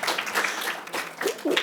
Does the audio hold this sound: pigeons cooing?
no